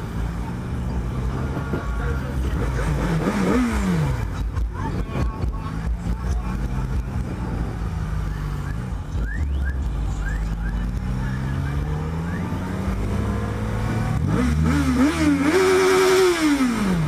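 A Yamaha XJ6 motorcycle ridden through congested traffic: a loud, steady engine drone with rising and falling revs, and a sharper rev climbing near the end amid surrounding traffic noise.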